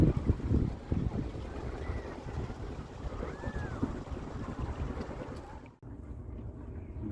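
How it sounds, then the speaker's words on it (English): A sailboat moves under sail after motoring out of Barrie, a steady wash of wind and water rushing past the hull, heard close with buffeting wind noise and no talking. "We're sailing now."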